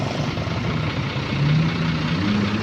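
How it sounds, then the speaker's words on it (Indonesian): A JRG intercity bus with a Hino DCR260 engine idles nearby on its Banda Aceh to Bandung route. The low, steady diesel rumble holds constant throughout without any speech. "Ini JRG ya, ini dengan memakai mesin Hino DCR260"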